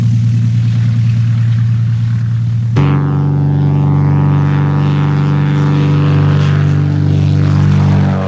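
The engine of a St Just Cyclone replica light aircraft drones steadily and loudly. Partway through it shifts to a richer, harmonic-laden propeller hum that holds evenly to the end.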